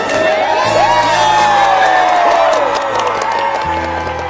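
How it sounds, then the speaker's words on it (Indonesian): A school gathering cheers and applauds after a new headmaster is announced, loud, dense crowd noise with whoops and shouting children carrying on steadily throughout, mixed with voices and a sliding musical tone. "Tepuk tangan untuk Bapak Untung."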